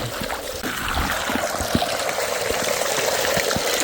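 Water flows through a small homemade mini Long Tom gold sluice fed by an adjustable flow controller, making a close, continuous trickle and gush with scattered small splashes and drips.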